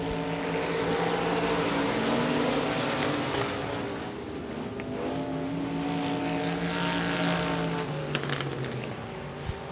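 Modified race cars roar around the Devils Bowl Speedway oval on the final lap, several engines droning and rising in pitch as they pass, loud and continuous with a hint of distant crowd noise.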